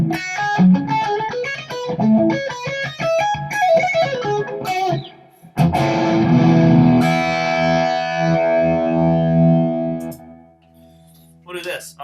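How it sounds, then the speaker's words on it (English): An electric guitar through delay and distortion pedals plays a quick run of clean, echoing single notes, then a loud sustained distorted chord rings out and fades to near silence. "Let's see how that delay does with distortion."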